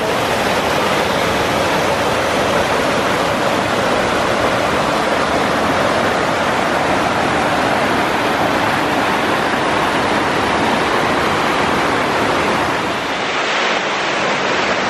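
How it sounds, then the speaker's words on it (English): Water pours steadily inside an ice cave in Iceland, making a dense, continuous rushing roar with no break that fills the whole stretch and eases slightly near the end. "it might be a waterfall"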